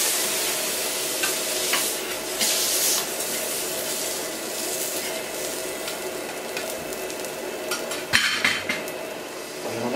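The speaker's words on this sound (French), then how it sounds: "Il n'y a presque plus de liquide dans le riz. Et on va retourner de nouveau les langoustes." Spiny lobsters are turned in a pan of rice that has almost no liquid left, with a continuous close sizzle and scraping stirs, plus a sharper clatter of utensil on pan near the end.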